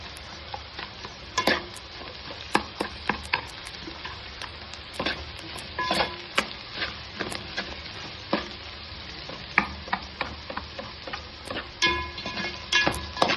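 Okra coated with sesame powder fries in oil as it is stirred, a continuous sizzle broken by frequent sharp scrapes and clinks of a spoon against the pan.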